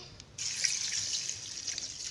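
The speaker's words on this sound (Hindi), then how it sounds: "मैंने लिया है थोड़ा सा गुड़ और थोड़ी सी चीनी मैं इसके अंदर डाल दूंगी और पानी" Water pours steadily into a bowl holding jaggery and sugar, a continuous splashing stream that starts abruptly and runs on without talk.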